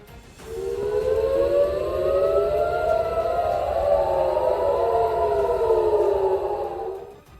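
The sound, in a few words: air raid siren sounding in Tel Aviv at night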